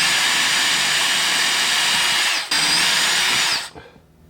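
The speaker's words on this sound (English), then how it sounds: "Nice little sharp drill bit. Knock out a bunch of these" A sharp bit in a power drill bores F-holes into a cigar box guitar body, whining loudly and steadily up close with a brief dip midway before spinning down.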